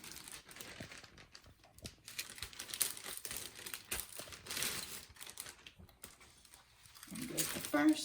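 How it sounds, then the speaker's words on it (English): A plastic bag crinkles and rustles in irregular bursts as smoked baby back ribs are slid inside, close and fairly quiet, with handling noises throughout. "we are now just going to put our ribs in the plastic bag"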